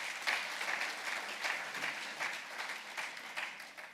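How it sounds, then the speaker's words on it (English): Audience applause at a capital markets day presentation, a steady wash of many hands clapping at moderate distance, fairly soft and continuous with no voices over it. "that deserves a round of applause"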